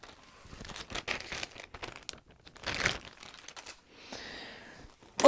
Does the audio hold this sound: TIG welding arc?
no